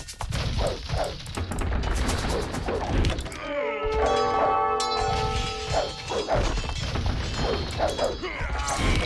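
Scorpion and mangonel siege weapons in an Age of Empires arena battle, with repeated mechanical launches, whacks and crashing impacts amid busy battle noise, plus a ringing chime-like tone in the middle.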